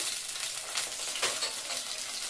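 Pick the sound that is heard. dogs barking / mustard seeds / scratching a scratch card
mustard seeds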